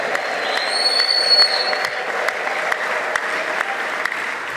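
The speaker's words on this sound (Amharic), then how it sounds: "እልልታ፣ ጭብጨባ ለጌታ።" Church congregation clapping steadily as a crowd, with high trilling ululation rising above the applause early on, dense and continuous at moderate distance.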